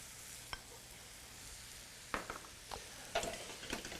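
Butter sizzling in a hot pan with a sauce, a soft continuous hiss punctuated by a few sharper pops and spatters, close but fairly quiet, no talk.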